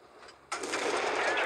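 Modded tank gun sounds in a tank battle game, featuring a sudden loud blast that roars on as a sustained, close rumble after a quieter start.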